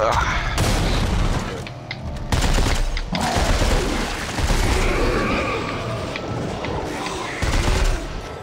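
Burst-fire weapons in Dead Space 3 co-op combat, repeated heavy bursts of shots and booms in uneven clusters, loud and close, with a voice talking faintly underneath.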